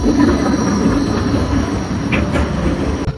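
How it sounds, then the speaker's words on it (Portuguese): A train rolls past close by with a steady loud rumble and hiss that persists throughout, with faint clicks near the end and no voices. "O trem vai passar e faz barulho."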